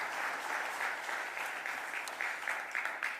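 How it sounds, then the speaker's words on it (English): An audience at a mayor's budget address breaks into steady, dense applause that fills the hall evenly for a few seconds, with no voice on top. "You can clap for that."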